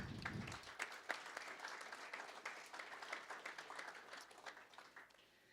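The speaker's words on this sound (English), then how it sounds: "So please join me in a round of applause for them." An audience at the Lloydminster Chamber 2020 Business Awards ceremony applauds, producing a dense, steady patter of clapping that is fairly soft and slowly tapers off.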